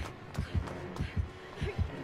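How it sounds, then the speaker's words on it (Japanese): Low thumping heartbeat from the video game Dead by Daylight, a paired lub-dub pulse repeating about three times across two seconds, soft and muffled under faint background noise. "いや心音大事ですねこれ。"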